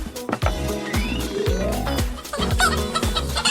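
Cartoon mother hen clucking in a children's animated color-learning show, several short clucks over steady background music with chime-like tones, no talking.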